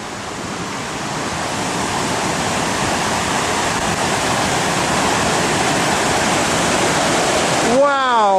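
A fast-rushing mountain stream on the Sawtooth Trail in Bitterroot National Forest roars loud and steady throughout, a dense continuous wash of water close by.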